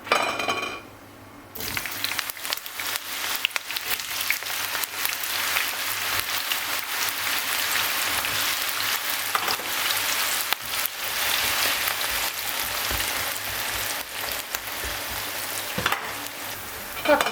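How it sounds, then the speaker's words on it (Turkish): Steady, loud sizzling of eggplant frying in hot oil, continuous throughout with occasional light clinks and stirring; no voices. "Şimdi patlıcanları da atıp kızartacağım."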